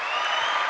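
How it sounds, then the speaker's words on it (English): Short burst of a canned cheering sound effect, a crowd clapping and cheering in a dense, steady wash at moderate loudness. "You got to put on the cheering sound effect and then go like full force into it."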